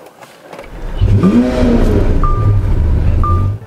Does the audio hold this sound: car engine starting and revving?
yes